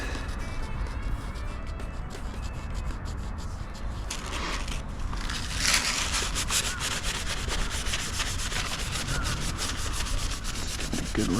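Handlebars on a KTM 390 Adventure being rubbed down with multi-purpose cleaner, a steady close scrubbing and rubbing that continues without a break and grows a little rougher partway through.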